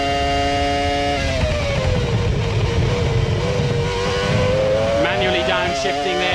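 Onboard a McLaren Formula 1 car at the 2002 Australian Grand Prix at Albert Park, the engine screams at high revs, drops in pitch through downshifts, then climbs again, loud and continuous from start to finish.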